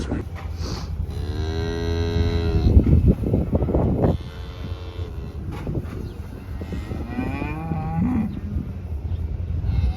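Cattle in a calving pen on a cold South Dakota farm, long loud moos from several cows in close succession, one deep bellow after another with a low steady hum behind.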